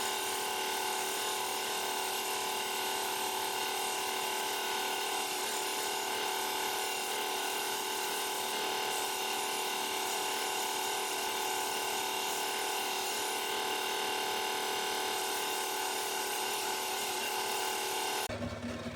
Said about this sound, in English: got the pink Scotch-Brite belt on the 2x42.